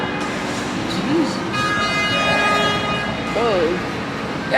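Car horns honking on a busy Miami street, short toots rising over steady traffic noise, while a voice talks over the scene.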